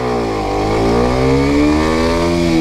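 A Kawasaki Ninja 125 motorcycle revs high and pulls away as the clutch is released, a loud, close engine note climbing steadily in pitch as it accelerates, with no talking.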